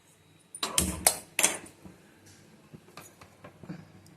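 A metal pan is set down on a stove for tempering cow pea dal, giving a few sharp clanks and clinks close by, followed by quieter scattered knocks.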